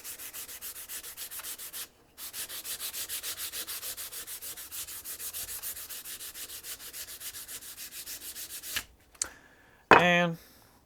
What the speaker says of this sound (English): Alright, time for a quick sanding now.